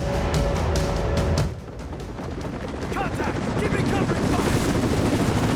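Helicopter boss battle in the video game Rise of the Tomb Raider: a loud, dense roar of rotor and engine noise with bursts of gunfire-like impacts, steady and close throughout.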